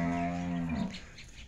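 A buffalo at milking time lets out a single deep, drawn-out moo close by, ending abruptly with faint farmyard background and no speech.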